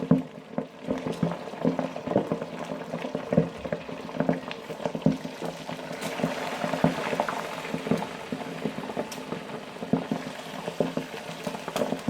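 Pieces of griot, Haitian fried pork, frying in oil at 350 degrees, giving a steady close bubbling crackle with small pops throughout, no voices.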